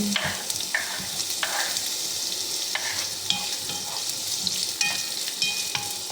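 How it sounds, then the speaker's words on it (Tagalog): Chopped onion sautés in hot olive oil, with a steady close sizzle broken by repeated scraping strokes as it is stirred around the pan; nobody speaks. "Gisa-gisa lang siya natin para lumambot."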